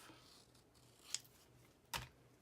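Scissors snip through paper in two quick, quiet cuts in a calm indoor space during craft work, with no talking.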